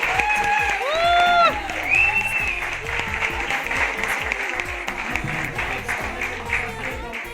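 Audience at a business meeting breaking into applause, dense clapping under loud amplified speech and bright whistle-like tones, fading slightly but continuing throughout.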